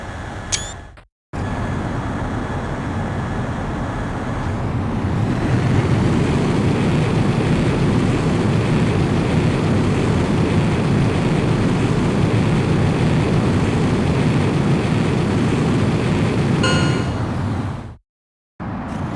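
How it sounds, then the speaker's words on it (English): A fighter jet in the Ace Combat X video game roars on takeoff, its engine building from a hiss into a loud, sustained thrust that holds steady before cutting off abruptly. "you are cleared for takeoff."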